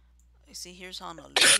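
A single sharp sneeze bursts out loudly near the end, right after someone speaks a short phrase close up.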